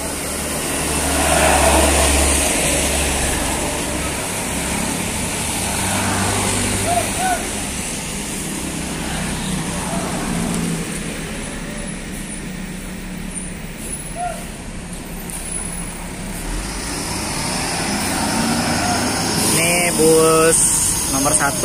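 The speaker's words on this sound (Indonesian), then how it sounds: "Ini bus pertama, nomor unit bus 5." A Metropolitan bus engine idles with a continuous low rumble, joined by other buses departing. The engine noise is steady and fairly loud, with occasional air-brake hisses and background chatter.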